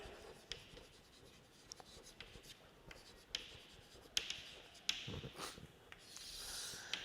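Marker or chalk scratches across a board during a chemistry lecture, faint and intermittent strokes with occasional taps, while a lecturer speaks quietly and breathes nearby.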